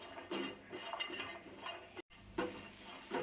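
Coconut and spices dry-roasting in a pan, with a steady scraping stir and faint crackle throughout, a brief gap near the middle, then renewed stirring.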